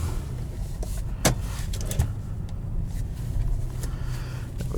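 A 2017 Nissan Maxima SL in sport mode heard from inside the cabin as it pulls away, with a low steady engine and road rumble, a few faint clicks and thumps, and no talking.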